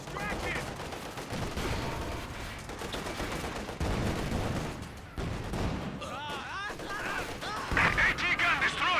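Infantry gunfire in the wartime strategy game Company of Heroes 2, with dense overlapping bursts of rifle and machine-gun fire and explosions mixed under game voices and a talking player.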